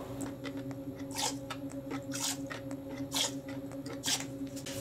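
Hydroponic nutrient solution, just dosed with Gro, is stirred in a container: faint, repeated scraping and swishing strokes about once a second over a steady low hum.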